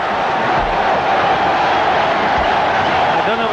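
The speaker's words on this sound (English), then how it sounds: "And the crowd roaring" A cricket crowd at a 1993 Sri Lanka versus India match roars steadily in support, a dense, loud, continuous wash of cheering.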